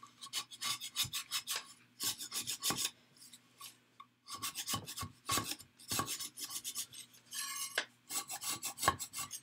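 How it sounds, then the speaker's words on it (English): A dull scraper rasps across a hardened plaster of Paris mold, faint rhythmic scraping strokes in quick bursts with a brief pause partway through, close-up and without talk. "the scraper is not sharp, but it's getting the job done"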